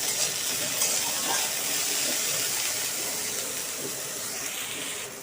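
Bitter gourd and potato with a whole green chilli frying in oil in a pan, a steady soft sizzling hiss running throughout at moderate volume, no talking.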